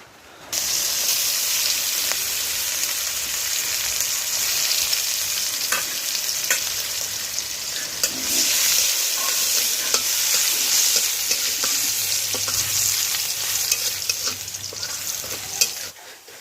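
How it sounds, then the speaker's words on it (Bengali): Food cooking in a pan over a wood-fired clay stove, with a steady, close frying hiss and occasional stirring scrapes throughout. No voices are heard. "মা রান্না করছে তো আমাদের কাঠের উনুনে রান্না হয়"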